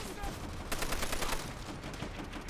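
Bursts of Type 99 rifle and machine-gun fire crackle through a Call of Duty World at War battle on Peleliu, rapid shots clustered mid-clip amid distant combat noise.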